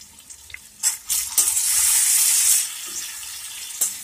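Raw paneer cubes are stirred into a sizzling masala for Dhaba-style palak paneer: a few spoon clinks and scrapes, then a loud, steady hiss of frying that swells and fades, close up with no voices.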